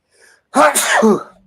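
A single sharp sneeze, loud and close, bursts out after a brief faint murmur and then trails off.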